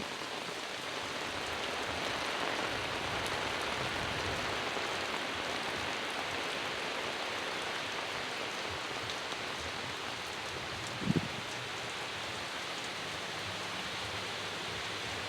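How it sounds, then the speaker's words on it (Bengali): Heavy rain pours down in a dense, constant hiss, with one brief thump partway through. "বিরাট বৃষ্টি নামছে দেখেন"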